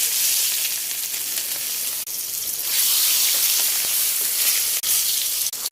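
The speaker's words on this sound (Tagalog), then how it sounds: "Yan, pupwede na natin ngayon iprito." Milkfish (bangus) fries in hot cooking oil with a loud, close, hissing sizzle that runs continuously, with a few sharp pops and a brief dip in the spitting partway through.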